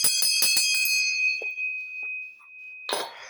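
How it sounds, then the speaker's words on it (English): Several brass hand bells struck in quick succession, each a bright metallic clang with a long ringing tone, one sustained note fading slowly, followed by a final clang near the end. "the head bells over here, brass bells"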